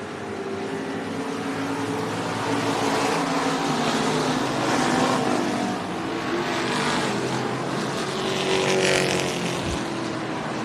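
Street stock race cars roar around an oval track at Mohave Valley Raceway, a dense, loud pack of engines swelling and fading as cars pass close, with no talking.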